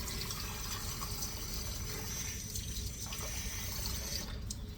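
Hot melted butter is poured into an egg and milk mixture for banana muffins, giving a steady, soft liquid pour that runs on without pause under a broad background hiss.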